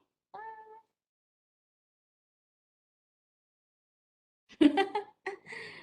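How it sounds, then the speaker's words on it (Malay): A neighbour's cat that has wandered into a house gives a single short, clear meow. A few seconds of silence follow, then a person talks and laughs briefly. "Kucing jiran saya masuk rumah, ya Allah."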